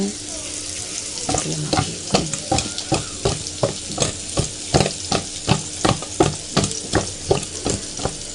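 Fish coated with dry red chilli, whole cumin, coriander powder and ginger sizzles steadily in a pan, with regular rhythmic scrapes of a spatula lifting and turning the pieces, close and fairly loud.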